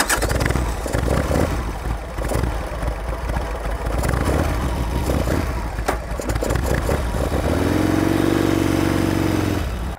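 A Harley-Davidson Sportster motorcycle with a shorty carburetor runs steadily at close range, its loud engine rumble filling the whole stretch and swelling into a stronger, rising drone near the end as it pulls away under throttle.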